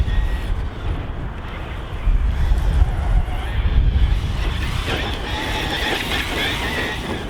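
An MJX Allrock RC crawler truck on stock setup, running on a 2S or 3S battery down a slope outdoors, grinds and whirs continuously nearby with rough rumbling surges and wind buffeting.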